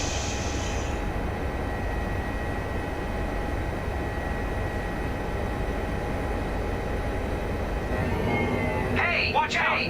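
An HPG H145 helicopter in Microsoft Flight Simulator drones with a steady engine and rotor hum throughout, near and even, with a brief higher tone at the start and a fluttering sound near the end.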